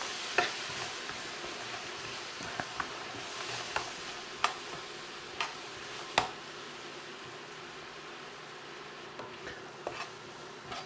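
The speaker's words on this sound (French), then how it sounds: "L'idée, c'est de, ce qu'on appelle praliner, enduire les noix de sucre." A utensil stirs nuts in hot maple syrup as they are coated in sugar, making a soft, steady sizzle with scattered scraping clicks and taps against the pan.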